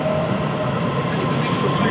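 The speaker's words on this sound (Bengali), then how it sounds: "একটা ট্রেন চলে যাচ্ছে।" A Taiwanese train passes through a station platform as a steady, loud rumble and rolling hum with no distinct clicks, and a voice murmurs faintly beneath it.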